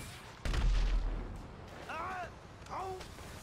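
A deep explosion booms in GTA 5 in Los Santos, a heavy low rumble that rolls for about a second, followed by lighter game sounds and brief voiced exclamations.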